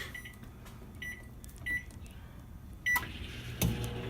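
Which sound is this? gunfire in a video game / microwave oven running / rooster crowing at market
microwave oven running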